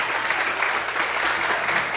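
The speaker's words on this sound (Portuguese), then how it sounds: "Você pode aplaudir o Senhor bem forte." A church congregation at a Portuguese-language service claps loudly and continuously, a dense, even wash of applause with no gaps and no talking.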